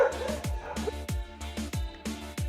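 Short repeated barks from a special-needs dog at an animal sanctuary in Costa Rica, about five sharp yaps in an uneven rhythm, close and fairly loud with whimpery tones between.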